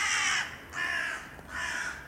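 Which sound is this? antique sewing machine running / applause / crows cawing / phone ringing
crows cawing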